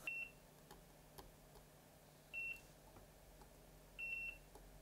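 Three short high electronic multimeter continuity beeps while testing a 24V lithium-ion battery build, evenly spaced about two seconds apart, faint against a quiet low hum.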